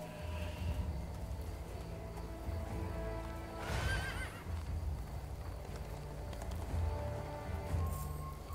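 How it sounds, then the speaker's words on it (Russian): A horse in the Drakensang Online video game whinnies once loudly mid-clip, with clip-clopping hooves and constant game background noise throughout. "Думаю, откуда, блядь, лошадь?"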